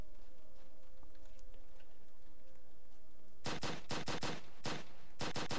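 Gunfire in the Roblox zombie game The Living Dead rings out from a Glock and an AK. About ten sharp shots crack out in quick, uneven succession after several seconds of quiet background hum, loud and close.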